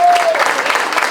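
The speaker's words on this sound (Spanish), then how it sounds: "pido un fuerte aplauso para Ramiro Porto García" Loud, close applause at a tango festival gathering of a peña tanguera, for honoree Ramiro Porto García, a dense continuous clapping with faint crowd murmur.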